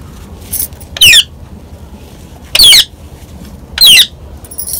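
Pet parrots squawking indoors: three loud, piercing shrieks near the listener, each about a quarter second long and spaced more than a second apart, with quiet room noise between them.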